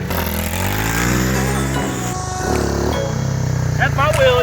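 A small pit bike engine revs hard during a wheelie, a buzzing high-pitched whine that climbs and drops through several throttle swells, loud and close, with a voice briefly over it.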